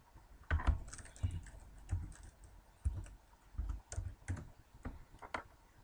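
Fingers typing out an answer on a computer keyboard: a close, quiet run of soft key clicks in an irregular rhythm, with short pauses between bursts.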